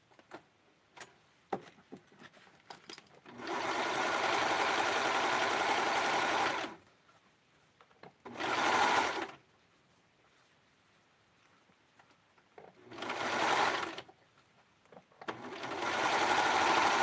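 Serger stitching the waistband of Barbie doll pants, running in several bursts of rapid mechanical chatter, a long run then shorter spurts, separated by quiet pauses with small clicks and handling sounds nearby.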